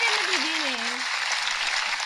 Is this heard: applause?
yes